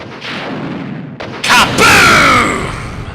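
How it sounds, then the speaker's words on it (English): A rocket launcher fires in Resident Evil 2, a sharp close blast that rolls into a loud sustained explosion rumble and then fades, with game sound behind it and no voice over the shot. "Rocket launcher!"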